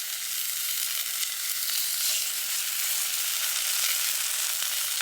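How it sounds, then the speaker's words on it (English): Steaks searing in an oiled pan over a wood-fired Solo Stove make a steady, bright hiss and crackle that stays even and close throughout, with no talking. "we're gonna go ahead and put these steaks on the grill right now"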